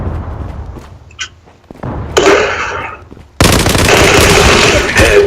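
Gunfire and grenade blasts from the online shooter Zula: a faint crackle early on, then a loud burst, a short gap, and a sustained dense roar of explosions and shots through the final seconds.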